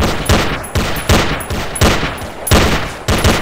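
Rapid bursts of gunfire from a shooting video game, five or six loud volleys in quick succession with no talking.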